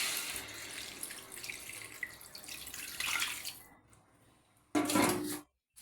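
Water pours from a tap into a pan of fried potatoes for egg curry, a steady rushing stream that tapers off, then a brief second splash.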